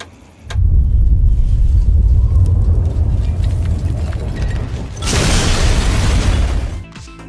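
The town of Megaton in Fallout 3 goes up in a massive explosion, with a deep, loud rumbling blast that rolls on for several seconds and a second roaring surge that then fades out.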